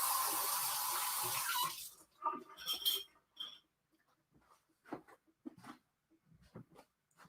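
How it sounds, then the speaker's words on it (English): Mini peppers rinsed under a running kitchen tap, water spattering loudly for about two seconds and then cutting off, followed by scattered soft clinks and handling noises. "I'm just going to wash these off"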